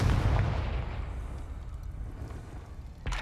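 A Confringo fire spell explodes in the video game Hogwarts Legacy, a loud booming blast with a deep rumbling tail that fades over a few seconds before a second burst hits near the end.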